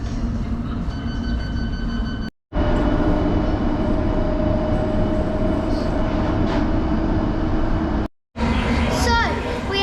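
Busy Metropolitan line platform at Harrow on the Hill station, with a loud, continuous rumble and roar of trains and station noise, broken by two brief cuts.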